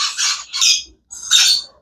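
Yellow Indian ringneck parrots give three harsh, loud squawks close by, the first two in quick succession and the third after a short silence, with no voices.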